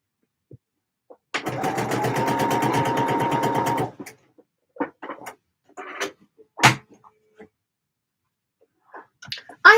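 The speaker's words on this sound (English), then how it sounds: "I have sewn a line of stitching." A sewing machine runs a line of stitching on a fabric scrunchie in a steady, close, whirring burst of about two and a half seconds, followed by scattered clicks and handling noises.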